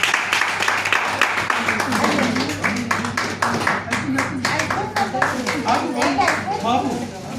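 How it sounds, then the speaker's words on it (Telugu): Group of people at a community association gathering clap steadily for several seconds as an official is called forward, with voices talking over the irregular, close handclaps throughout. "రావాలి, చప్పట్లు కొట్టేస్తాం"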